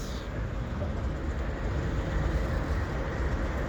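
A CN container stack freight train passes on a winter day, a steady low rumble and rolling rail noise heard from trackside, continuous and fairly distant, with no talk.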